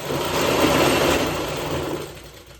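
A sewing machine runs continuously as it stitches along the reverse side of a godhadi quilt, a close whirring motor hum that holds steady and then eases off near the end, with no talking.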